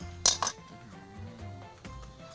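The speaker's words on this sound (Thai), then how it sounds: "ตั้งกระทะเลยครับ" A metal pan clanks down with a couple of sharp clinks, then a faint low hum continues.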